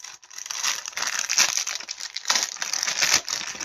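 A plastic bag holding lenticular screens from a LEGO Nintendo Game Boy set crinkles and rustles continuously as it is handled and opened up close, loud and busy throughout with no voices.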